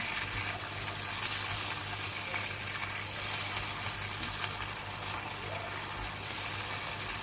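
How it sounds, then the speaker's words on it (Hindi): Masala for chargha biryani, with a little water added, fries in a pan while being stirred. A steady, close sizzling hiss carries faint scraping and bubbling, and no one talks. "इस तरह से इसको अच्छी तरह से भून के इसका गाढ़ा सा मसाला तैयार कर लेंगे।"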